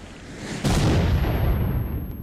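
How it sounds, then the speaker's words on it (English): A rocket launcher explosion in S.T.A.L.K.E.R. Shadow of Chernobyl bursts suddenly after a quiet lead-in, a loud, close, deep boom that rolls on as a long rumbling tail. "They'll stop at nothing to keep you out, including the use of a rocket launcher."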